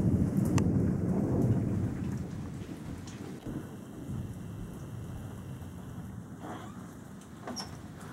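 A deep rumble of thunder rolls in at the start of a thunderstorm under a shelf cloud, then fades into steady rain hiss and patter lasting throughout, with no one talking.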